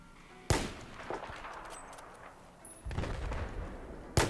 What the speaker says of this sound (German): Jetzt habe ich geschossen, das war doof.